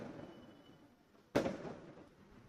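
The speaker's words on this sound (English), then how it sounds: "I honestly hate firecrackers." A single firecracker goes off outside, one sudden muffled bang with a short decaying tail, heard at a distance over a quiet indoor background.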